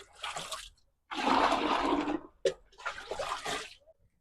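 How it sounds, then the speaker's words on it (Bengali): Plants being watered: three loud rushing bursts of pouring water, each lasting about a second, with a sharp splash between the second and third bursts and no speech. "আমি এখন যাচ্ছি গাছে জল দেওয়ার জন্য"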